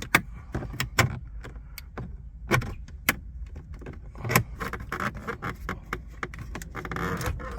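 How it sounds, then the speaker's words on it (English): A plastic dashboard trim panel on a 2012-2015 Lexus RX350 being pried off with a panel remover tool, sharp clicks and snaps scattered through, then a busier run of scraping and rattling near the end, close by with no talking. "use your panel remover tool, and we're going to remove this plastic"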